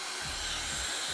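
A Dyson hair dryer blows a steady, loud rush of air, a broad even whoosh with a low hum beneath, constant from start to finish with no voices.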